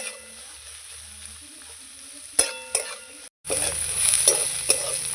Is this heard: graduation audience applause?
no